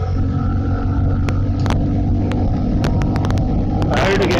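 A Honda CB350RS motorcycle accelerates in third gear, its engine droning steadily under heavy wind rush while a rider talks.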